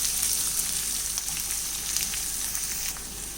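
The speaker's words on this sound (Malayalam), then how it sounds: "സവാള ഒന്ന് വഴറ്റിയെടുക്കാം." Sliced onion sautéing in a pan for an egg masala curry, a steady, dense sizzle that holds close and even throughout, with no voices.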